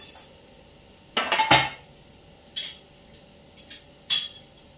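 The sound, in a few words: clinking pan as fried cabbage wadis are taken out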